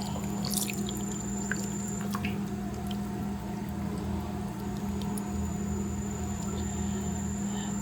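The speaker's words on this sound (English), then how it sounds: "Now you pour that over your chicken." Thick Coca-Cola barbecue sauce squishes and drips wetly over chicken in a crock pot, close by, against a steady background hum with a faint high whine.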